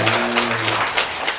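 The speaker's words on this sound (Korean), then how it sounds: "어떻게 힘내라고 박수 한번 해주세요." Audience applause at a Buddhist dharma assembly in Busan: a short burst of dense clapping from a seated crowd, steady and fairly loud through its brief length, with a faint tonal voice trace early on.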